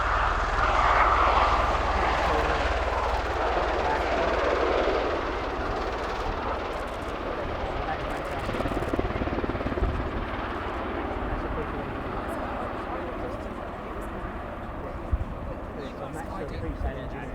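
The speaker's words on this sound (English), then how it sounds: "Take off now from the Osprey." A USAF Osprey tiltrotor taking off at an air show roars with a heavy, throbbing rotor and engine noise that starts loud and gradually eases as it climbs away, with a commentator talking over it.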